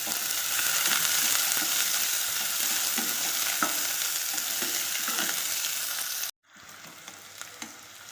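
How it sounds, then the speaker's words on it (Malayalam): Finely chopped onion sautéing in hot oil in a pan for home-made prawn biryani gives a steady, close sizzle with light stirring, running continuously until it cuts off abruptly near the end, leaving only faint room noise. "ഞാനൊരു സവാള ചെറുതായിട്ട് അരിഞ്ഞെടുത്തിട്ടുണ്ട്. അതൊന്ന് ഇട്ടെടുക്കാം"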